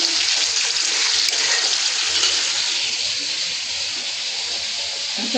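Water poured into a cooking pan of hot oil, giving a loud, broad rushing hiss that holds steady for several seconds and eases slightly toward the end.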